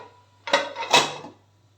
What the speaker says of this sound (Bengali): টিফিন বক্সটা কড়াইয়ের মধ্যে ভালোভাবে বসিয়ে কড়াইটাকে এবার ঢেকে দিতে হবে